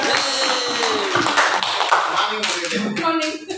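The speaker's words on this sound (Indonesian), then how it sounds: "Kita tepuk tangan untuk Bapak Ibu hebat SMA Negeri 1 Banjar." Brief applause for the teachers of SMA Negeri 1 Banjar, a small group clapping in quick scattered bursts with bright tonal pings mixed in, fading at the end.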